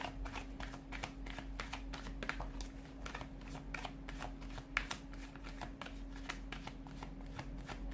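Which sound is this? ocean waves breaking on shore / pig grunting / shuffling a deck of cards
shuffling a deck of cards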